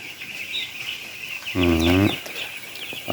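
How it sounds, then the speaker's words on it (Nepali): A steady high chorus of seven-day-old broiler chicks peeping fills the clip on a poultry farm, with one louder, lower fowl call briefly rising above it midway. "आज कम्प्लिट भए 7 दिनका कुखुराहरू।"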